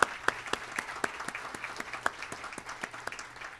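An audience at a small business summit applauds, a moderate crowd clapping with distinct individual claps steady throughout.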